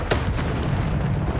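A spell blast in the video game Hogwarts Legacy erupts as a short, loud booming burst that rolls into a dense rumble for about a second and a half, with no voices.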